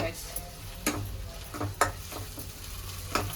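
Masala frying in a pan: a low steady sizzle with sharp crackling pops and stirring scrapes at irregular intervals, close and moderately quiet, no voices.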